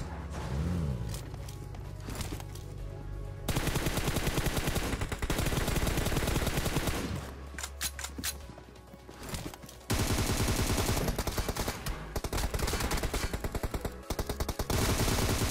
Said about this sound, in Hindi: अब यहाँ पे गैस बान हाउस में काफी तकड़ी फायरिंग चल रही थी